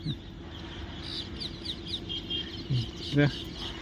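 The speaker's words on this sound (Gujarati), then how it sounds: "પોપટ કેવા બોલે છે જો આવે" Parrots calling outdoors in a rural setting, a quick series of thin, high chirps and squawks spread across the clip at moderate distance, with one louder call near the end over steady background noise.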